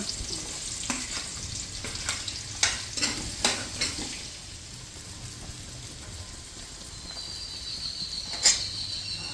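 Chopped onions frying in hot oil for mutton keema curry, a steady close sizzle with a series of sharp stirring scrapes and clicks early on, then a quieter hiss with one more scrape near the end.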